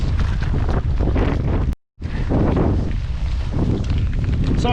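Heavy wind roars across the microphone of a bicycle riding into a headwind in the rain, loud and constant, broken by one brief dropout.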